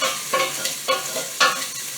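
Sausage fries in a pan for biscuits and gravy, a steady close sizzle with a few louder scraping stirs at regular intervals, no voices.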